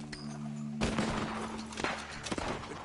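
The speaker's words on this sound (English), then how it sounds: "Gunshots are coming from that barn!" Gunfire in Red Dead Redemption 2 from a barn, a sharp burst of shots followed by a few scattered cracks against a faint background hum.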